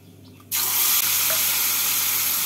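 Spice paste and a splash of water hit hot oil tempered with dried chilli, bay leaf and cumin, bursting into a sudden loud hiss that stays strong and steady, close by, with no voices.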